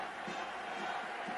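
Huge stadium crowd of about 100,000 applauding a marathon winner at the 1980 Olympic Games, a steady, distant roar of clapping and cheering sustained throughout without a break.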